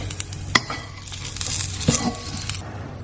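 Chilli pork fries in a pan, a busy sizzle with stirring and a couple of sharp metallic clinks of a utensil against the pan, close and alone.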